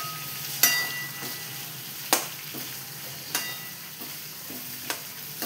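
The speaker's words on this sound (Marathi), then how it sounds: "हे बघा असं फ्राय करायचं." Vegetables fry in a pan with a steady, close sizzle, broken by sharp metallic clicks as a spoon stirs and scrapes every second or so.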